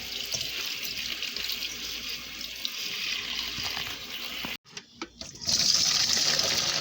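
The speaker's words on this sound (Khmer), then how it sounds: "លាងទឹកឲ្យស្អាត" Vegetables washed under running tap water, a steady hiss of flowing water that stops briefly, then returns with splashing.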